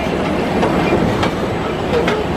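Roller coaster train rolling along its track at Six Flags Over Texas, a steady loud rumble and rattle with clattering wheel noise throughout, heard from close by with no talk.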